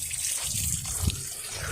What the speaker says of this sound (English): I'm draining the tank.